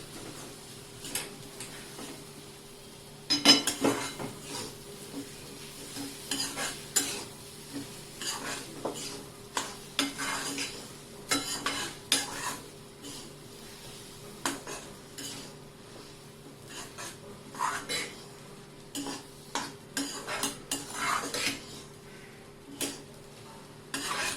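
Spatula scrapes and taps against a pan while vatli dal with grated coconut is stirred, an irregular series of close knocks and scrapes over a soft sizzle, with no talking.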